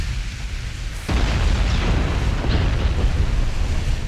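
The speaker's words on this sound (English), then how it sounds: "Flash fire in the rear turret, sealing the fate of the ship." Warship blowing up from a flash fire in its rear turret during a naval video game battle: a sudden heavy boom about a second in, followed by a sustained loud rumbling roar that lingers to the end.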